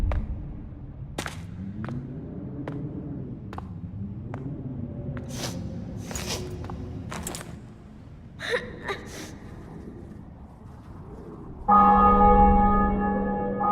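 Church bells ring in The Witcher 2, a series of separate strokes sounding over a low rumbling bed, then a brief quieter stretch before a loud, sustained tonal swell takes over at the end.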